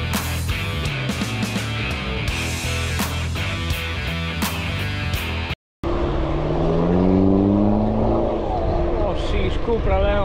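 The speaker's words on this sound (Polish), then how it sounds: "O, sheesh, Cupra Leon." A Cupra Leon drives past, a rising and falling engine sweep after a cut, with louder music and noise before it.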